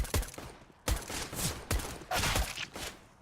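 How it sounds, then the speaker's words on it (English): Gunfire in a competitive video game match, four loud, close bursts of rapid shots separated by short gaps, with no talking. "quick headshots right on top of Greg right there"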